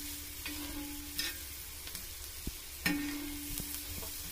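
Onions frying in butter on a tawa for street-style pulao, a steady close sizzle with occasional clinks and scrapes of a spoon stirring the pan, with no talking.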